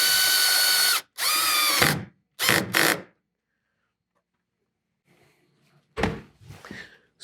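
A Makita drill drives a screw while mounting an anchor trolley on a Hobie Mirage Passport 12.0 kayak, whirring loudly in several short bursts that each stop abruptly, followed by quieter, brief driving bursts after a pause.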